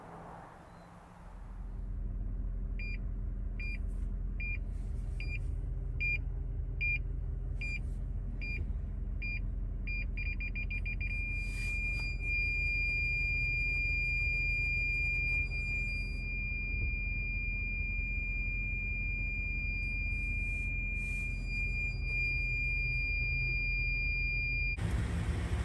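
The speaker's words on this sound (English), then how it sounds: "Those are the parking sensors." Parking sensor proximity beeps inside a Toyota Tundra Platinum pickup: a run of evenly spaced short beeps that speed up and merge into a continuous tone, with a second tone joining, over a low steady cabin hum.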